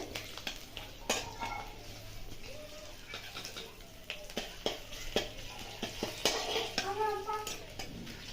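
Sugar caramelizing in hot oil with ground spices for a Bengali raw banana kofta curry, crackling and sizzling steadily in a pan with scattered stirring scrapes and clinks of a utensil against metal.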